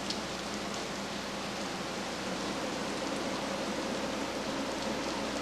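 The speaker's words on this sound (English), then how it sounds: "It's just a bunch of rain." Steady rainfall outdoors, an even, continuous wash of drops on surfaces with no pauses, soft and constant throughout.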